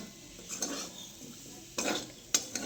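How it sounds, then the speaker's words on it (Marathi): Chopped coriander is stirred into a potato mixture in a pan, with soft scraping strokes and a few sharp spoon clinks over a faint sizzle, close and quiet. "हलवून घेते अजून चांगलं"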